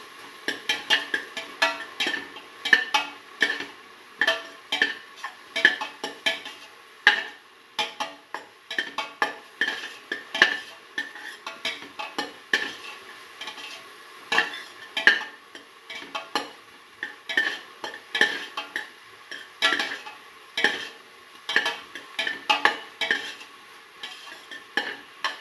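Food fries in a pan while being stirred, with repeated rhythmic bursts of scraping and clinking from the utensil against the pan over a soft, faint sizzle.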